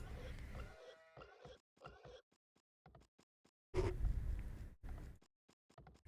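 Sheep bleat in Age of Empires II, short wavering calls repeating in uneven bursts with a louder cluster midway, sitting close and clear against otherwise quiet game sound.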